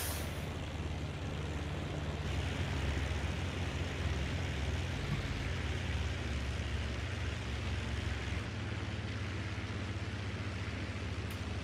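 Steady droning roar of a Ju 52 aircraft's engines in a flight video game, a constant broad noise with a low hum that shifts slightly as the throttle is pulled back.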